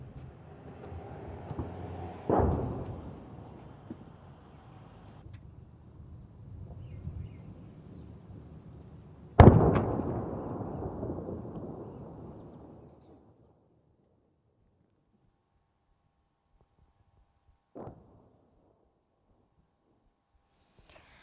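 Israeli airstrikes exploding on Haret Hareik in Beirut's southern suburbs: a few distant heavy booms, each followed by a long rolling rumble, and a fainter later thud among quiet gaps.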